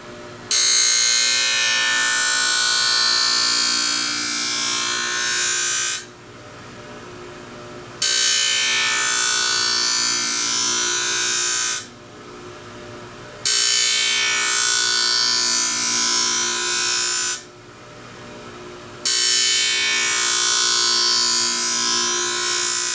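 A skate sharpening machine's stone grinds along a skate blade in repeated passes, a loud harsh hiss that runs several seconds at a time, broken by brief quieter gaps between passes.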